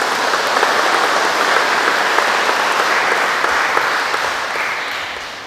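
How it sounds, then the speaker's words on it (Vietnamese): A congregation at a Vietnamese Catholic Mass for the feast of Saint Joseph claps in a long, steady round of applause that stays dense and even before slowly fading at the end. "chúng ta mừng lễ nhau bằng một tràng pháo tay thật nồng nhiệt nữa"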